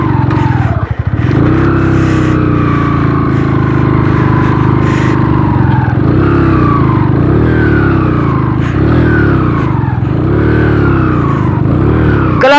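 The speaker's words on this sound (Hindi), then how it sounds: "Clutch and pump technique use करो फैसल।" Motorcycle engine revving hard on a rough mountain track in Deosai National Park, loud and close with repeated rising and falling revs as the rider works through the terrain.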